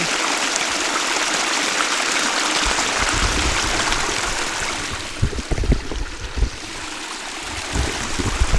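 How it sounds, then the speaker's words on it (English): Spring water flows steadily at a natural spring, a constant broad rushing wash with some splashier bursts toward the end, heard alone with no voices. "We're at the spring."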